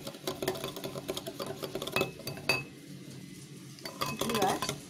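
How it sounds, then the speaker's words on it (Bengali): Eggs and sugar beaten at high speed into a foam for stovetop pancakes, giving a steady run of quick metallic clinks and scraping taps against a bowl, close and fairly continuous with no talk. "মিনিমাম 5 মিনিটের মতো খুব স্পিডে এই গোলাটা তৈরি করতে হবে যাতে ডিমটা একটা ফোমের মতো তৈরি হয়"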